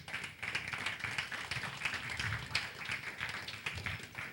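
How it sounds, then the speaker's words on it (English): An audience claps at a gathering, a faint, fairly steady patter of hands heard from a distance at low level, without any speech over it. "Give her a round of applause."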